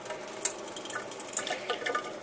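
A cheap 12V 100 PSI water pump runs quietly at low voltage, pushing water through tubing with a soft continuous trickle and small splashy drips close by. No one speaks.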